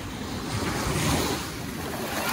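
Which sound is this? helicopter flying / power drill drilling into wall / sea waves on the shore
sea waves on the shore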